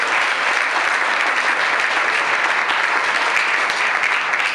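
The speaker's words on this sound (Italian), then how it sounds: "Complimenti, applauso, foto di Vico." Dense, sustained applause fills the room at an award ceremony as a prize is handed over, a steady loud wash of many hands clapping close by without talking.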